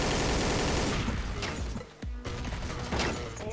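Dense, loud gunfire from Counter-Strike: Source in GunGame mode: rapid overlapping shots and bursts, with a brief mechanical gap near the middle before the firing resumes.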